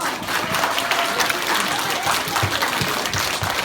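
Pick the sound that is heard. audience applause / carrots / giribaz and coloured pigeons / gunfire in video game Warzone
audience applause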